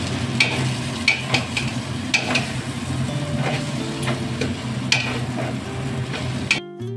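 Salt, turmeric, chilli, cumin and coriander powders being sautéed in a pan for Bengali muri ghonto, a steady low sizzle under repeated sharp spoon scrapes and clinks against the pan, then a sudden drop at the end.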